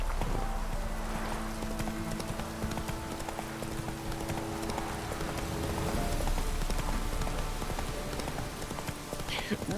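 Hooves of the horse Roach pound in a quick rhythmic clip-clop while galloping in a video game, with a rain-like patter and game rumble behind, and a person talking over it.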